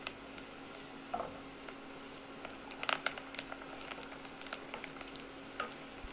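Whole spices frying in hot oil in a cooking pot, a steady close sizzle with scattered crackles and pops, a few louder bursts midway, and no voices.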